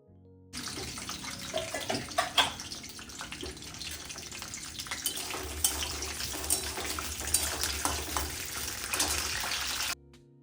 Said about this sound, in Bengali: এরপর আমি মটরশুঁটিটা ভেজে নেব।